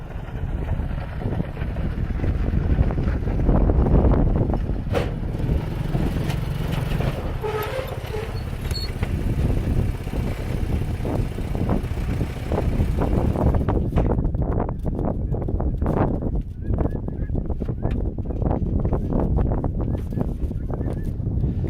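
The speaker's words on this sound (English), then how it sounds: "Man, that wind is getting stronger too." Strong wind roars and buffets the microphone in a steady low rush while a 2000 Arctic Cat 300 4x4 ATV rides along, the engine blending into the gusting noise throughout.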